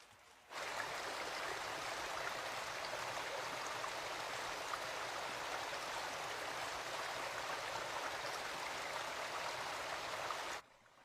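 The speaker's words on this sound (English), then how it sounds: "the water creeps quietly inland, filling hundreds of dry waterways" Steady broadband rush of water flowing along a creek, continuous and fairly close, with no voices; it holds evenly for about ten seconds before cutting off.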